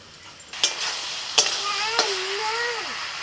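Ridge gourd and potato frying in a pan, a steady sizzle with sharp stirring clacks of a spatula against the pan at intervals, close and alone.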